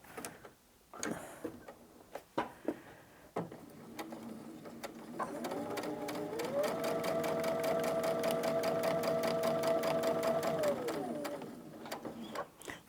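A domestic sewing machine stitches fabric for a Christmas advent calendar, starting with a few short back-stitch bursts and clicks, then running steadily in a fast, even whir for several seconds before slowing and stopping.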